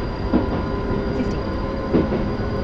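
A train accelerating at maximum tractive effort in the TWS train simulator game gives a steady, loud rolling rumble with a faint whine and a couple of soft rail clunks.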